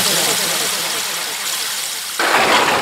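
Heavy rain used as a sound effect behind story narration, a dense continuous hiss that swells louder near the end, with someone speaking over it.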